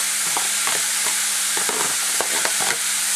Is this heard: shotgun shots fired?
no